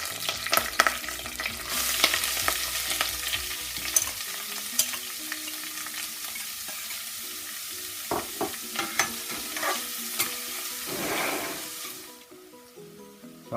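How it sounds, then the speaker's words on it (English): Chopped onions sizzle in a hot pan while a utensil scrapes and stirs them in sharp, irregular clacks, steady frying hiss underneath that fades away near the end. "onions are fried"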